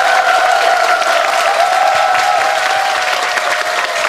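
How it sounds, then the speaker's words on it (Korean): Loud applause from a concert audience at an agricultural food-knowledge concert after a Korean traditional music (gugak) performance, dense clapping with a sustained tonal hum running beneath, continuous and close throughout. "박수 주세요."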